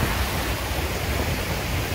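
Broad, steady wash of moving water on the Savitri river, a continuous rushing splash against a boat with no distinct breaks, fairly loud and even throughout, no voices.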